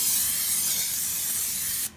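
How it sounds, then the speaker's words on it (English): Cooking spray hisses from an aerosol can into a slow cooker in one continuous, close burst lasting about two seconds before cutting off abruptly. "you want to spray your Crock-Pot with some cooking spray"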